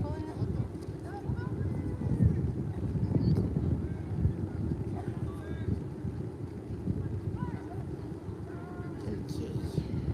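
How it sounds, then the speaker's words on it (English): Strong, gusting wind buffets the microphone at the Trocadéro in Paris, a continuous low roar that swells and eases throughout. "Really windy. Really windy here."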